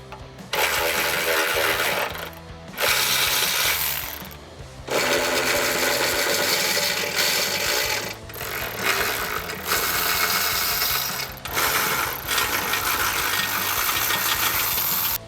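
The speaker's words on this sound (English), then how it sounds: "Now you're going to remove the 8 18mm nuts that are located 4 on each side of the Jeep." A power tool takes the 18mm bumper nuts off a 2018 Jeep Wrangler JL in repeated whirring, rattling bursts separated by short pauses, close and fairly loud.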